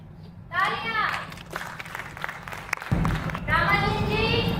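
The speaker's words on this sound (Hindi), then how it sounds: "तालियां।" Audience clapping rises at a children's drama competition, a dense patter of hands mixed with children's voices and chatter, fading briefly before swelling again near the end.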